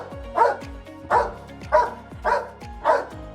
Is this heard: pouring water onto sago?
no